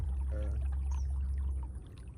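A boat is paddled through floodwater reaching into a field during a July storm, giving a faint splash and slosh of the paddle against a steady low rumble, with no talk.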